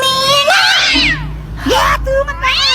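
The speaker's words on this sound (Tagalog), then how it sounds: "May pusa pala kayo?" A house cat meows several times, loud and close, with distinct rising and falling cries between bursts of people talking.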